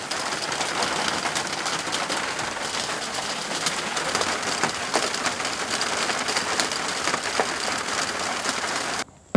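Dense, steady rain roars without letup, a broad hiss of water pouring down and drumming on surfaces, cutting off abruptly at the end.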